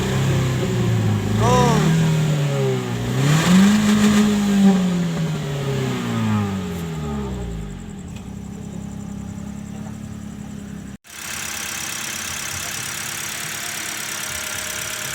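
A car engine revs up and settles during a home tune-up, rising and falling in pitch under brief talk before dropping to a steadier idle.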